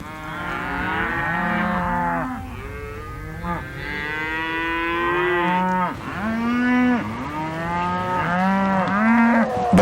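A herd of cattle on Western rangeland lowing almost without pause: several overlapping moos, some drawn out and some rising, loud and fairly close, with no voices.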